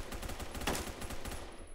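Rapid gunfire from many weapons in the Roblox shooter Phantom Forces, dense automatic bursts crackling all over the place with one louder shot standing out near the middle, no talking.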